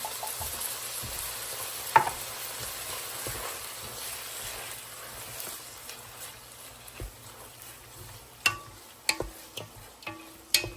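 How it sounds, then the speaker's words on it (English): Tomato sauce is added to cooked meat in a pan and stirred, giving a soft steady sizzle with scattered spoon scrapes and a few sharper knocks toward the end. "I'm going to add that can of tomato sauce."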